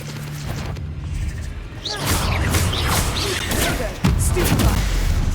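An Incendio fire spell cast in Hogwarts Legacy: a rising whoosh of flame bursts into crackling combat noise with impacts and a sharp blast near the end, loud and busy.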